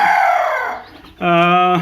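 A young first-time hen with incubator-hatched chicks placed beside her gives a soft clucking call that fades out, then a louder, sustained tonal clucking vocalization follows near the end, close and clear.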